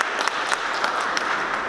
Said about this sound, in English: I give a round of applause for Brian for showing up today.